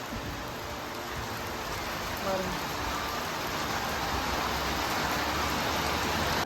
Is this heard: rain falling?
yes